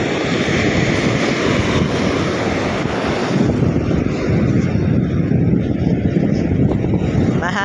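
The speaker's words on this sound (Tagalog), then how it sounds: "Yung hampas ng alon sa dalampasigan." Continuous roaring surf with waves breaking onto a beach, loud and close, mixed with gusty wind buffeting the microphone; no talking.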